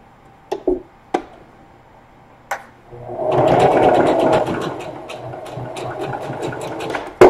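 A sewing machine stitches down the seam of a lunch tote. A few sharp clicks and taps come first, then the motor whirs steadily at close range in rapid needle strokes for several seconds, ending with a click.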